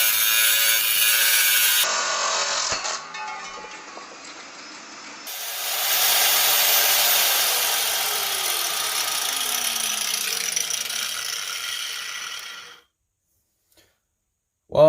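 Power tool driving screws through angled aluminum into the wooden transom of a jon boat, loud and close with a sustained grinding whir, a pause, then a longer run that winds down and falls silent near the end.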